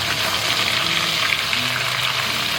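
Shrimp coated in a thin layer of cornstarch are pan-frying in hot oil, giving a steady, close, even sizzling hiss with no talking.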